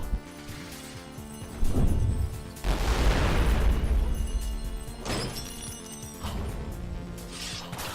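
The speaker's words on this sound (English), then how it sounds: "there's another delay between that and the staff actually going off. Or the explosion actually going off." An explosion set off by a staff weapon in a video game, heard as several loud booming, shattering blasts with mechanical clatter, set against a continuous layered game soundtrack.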